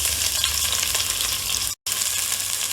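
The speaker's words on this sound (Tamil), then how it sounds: "வெங்காயம் நல்லா ஃப்ரை ஆகண்டா," Finely chopped large onion frying in a pan for ghee rice, a dense, loud, continuous sizzle heard up close, broken by a brief cut of silence near the end, with no talking.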